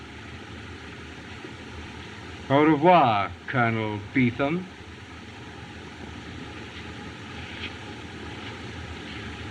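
A propeller airplane engine drones steadily in the background, a constant mid-distance hum that runs through the whole scene while someone speaks briefly over it.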